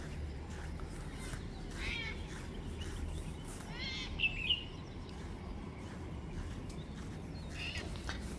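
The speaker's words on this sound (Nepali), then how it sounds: "बिहान बिहान चराहरू कस्तो भन्दा चिरिबिरी गर्दैछ।" Morning birds call on the hillside near the Peak in Hong Kong, with scattered chirps and trills at moderate distance over a constant low outdoor hum, no voices.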